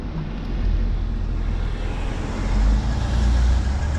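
Car on a road in a working-class neighborhood of Auburn, Alabama, a close engine rumble with deep low-end drone that swells and peaks around the middle as it passes, with no talking.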